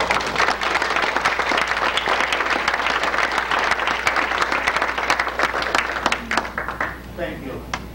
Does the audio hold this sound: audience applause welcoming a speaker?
yes